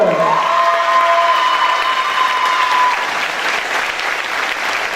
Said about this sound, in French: voici votre Miss Somme 2018 et ses 4 dauphines sous les applaudissements du Théâtre d'Aville